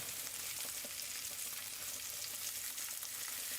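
Stuffed chicken breast rolls fry in oil in a pan with a steady, dense sizzle and crackle, heard alone and fairly quiet from close by.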